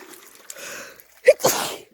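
A single sharp sneeze, close and loud, preceded by a short sniffly intake of breath.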